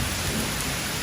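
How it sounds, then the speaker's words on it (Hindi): Steady rain pours down on a rainy day, a dense, continuous hiss of falling drops on surfaces, fairly loud and unbroken, with no voices. "मैंने कहा बारिश हो गई है"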